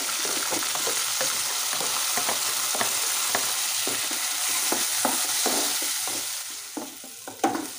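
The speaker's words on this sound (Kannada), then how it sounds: "ಈಗ ಟೊಮೆಟೊ ಫ್ರೈ ಆಗಿದೆ" Tomatoes and onions fry in a pan with a loud, continuous sizzle close by, broken by regular scraping stirs of a spatula that ease off toward the end; no voices.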